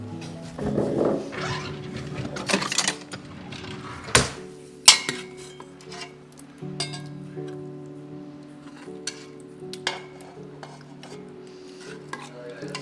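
Serving keema, an Indian lamb mince curry, with kitchen utensils: irregular metallic clinks and scrapes of a spoon against a pot and dishes, a few sharp louder knocks among softer stirring sounds.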